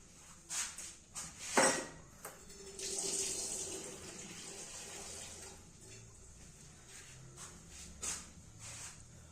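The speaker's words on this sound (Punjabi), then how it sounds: "ਤੇ ਹੁਣ ਆਪਾਂ ਇਹਦੇ ਵਿੱਚ ਪਾਈਆ ਕਾ ਜਿਹੜਾ ਪਾਣੀ ਪਾ ਲਵਾਂਗੇ" Water is poured from a container into a cooking pot already holding milk and spices in a Punjabi village kitchen, a splashing, gurgling pour with a few clanks of utensils, fairly quiet and close.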